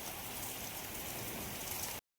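Steady rain pours down without a break, a dense, even hiss of drops hitting surfaces close by, with no voices, until it cuts off abruptly near the end.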